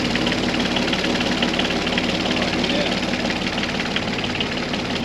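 A sailboat's inboard engine runs steadily at idle, a dense, continuous low rumble with a faint knocking pulse, close and loud throughout with no break.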